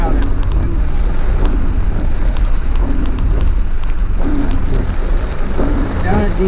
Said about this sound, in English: It's raining. I can't do much about it.